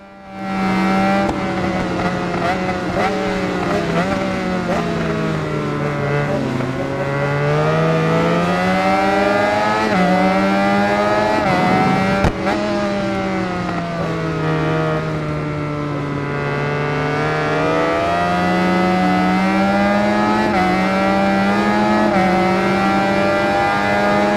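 Motorcycle engines screaming in the Ride 4 racing game during a Classic Endurance 750 race, one loud sustained high-revving whine rising and falling through gear changes and corners for the whole stretch, close and continuous without talk.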